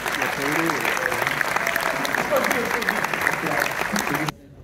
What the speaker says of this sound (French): On les applaudit, c'est très généreux de leur part